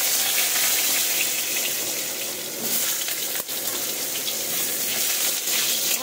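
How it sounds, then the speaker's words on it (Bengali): Potatoes frying in oil for a spicy pumpkin-and-potato curry, a steady broadband hiss and crackle that stays loud and even throughout, with no talking. "এবার আলুগুলোকেও সুন্দরভাবে আমি ভেজে নেব"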